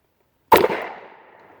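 A single sharp shot from a Star Firestar 9mm pistol fired at a silhouette target, a loud close crack with a short ringing tail and no other shots or voices.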